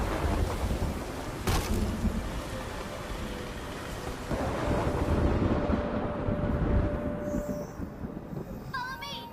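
A thunderstorm played in a trailer, heard as a continuous loud roar of rain and rumbling thunder with a sharp crack early on and wind-like noise throughout, with faint voices near the end.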